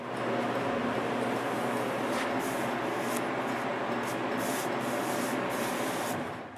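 Continuous hiss of sanding on wooden cabinet edging, a steady rough rubbing close by with faint rhythmic pulses, alone and fairly quiet.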